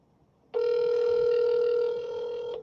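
A single sustained telephone ring tone on an outgoing call, steady and clear for about two seconds before cutting off, heard alone with no talking.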